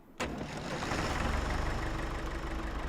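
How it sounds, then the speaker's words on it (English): A tractor in Farming Simulator 25 working a field under load, its engine kicking in abruptly after a quiet moment and then droning steadily and loudly with a low rumble. "that this tractor can handle the weight"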